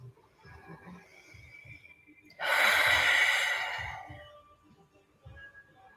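One big, deep breath during a yoga session, a single loud, breathy exhale or sigh lasting about a second and a half and then fading, heard close up against a quiet room.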